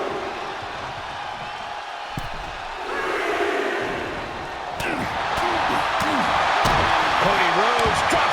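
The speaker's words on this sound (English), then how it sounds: "Cody Rhodes riling up the crowd like only a Rhodes can." Wrestling arena crowd in WWE 2K24 roars and cheers, swelling louder toward the end, with sharp impact slams and a voice shouting over the noise.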